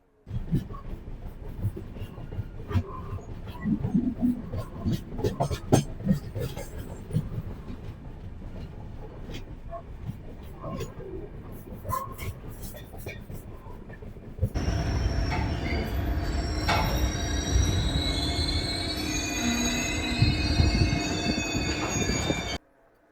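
A Janshatabdi Express passenger train rolls along with rhythmic wheel clatter, then louder running noise and high metallic wheel squeal as it picks up after a stop, fairly close.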